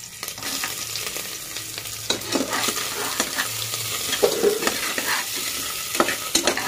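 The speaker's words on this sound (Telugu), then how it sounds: "ముందుగా కోసి పెట్టుకున్న ఈ కోకోనట్ ముక్కలు కూడా ఒకసారి నెయ్యిలో ఫుల్గా మనం" Coconut pieces frying in ghee in a pan for Kerala-style kalathappam, stirred continuously: a steady sizzle with repeated scraping and clinking of the spoon, close and moderately loud, with no talking.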